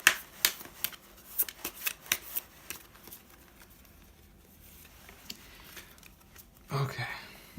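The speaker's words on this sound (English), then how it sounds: "I'm going to pull one card from the Magical Times Empowerment cards" Oracle cards shuffled and drawn from a deck, a run of soft crisp riffles and flicks in the first few seconds, then quieter handling and a closer slap of cards near the end.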